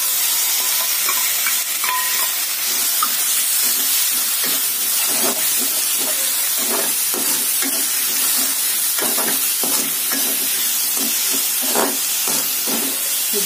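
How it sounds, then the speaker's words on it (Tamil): Vegetables sizzle and get stirred in a hot pan for millet noodles, a continuous loud frying hiss broken by repeated scraping and tossing clatters, with no talking. "வெஜிடபிள்ஸ் ஆட் பண்ணிட்டு நல்லா மிக்ஸ் பண்ணுங்க."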